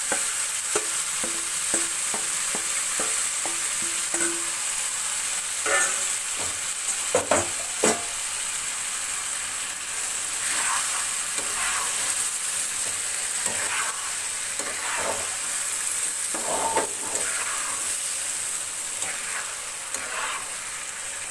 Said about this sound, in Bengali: এবার আমি ম্যারিনেট করে রাখা চিকেনটা এর মধ্যে দিয়ে দেব।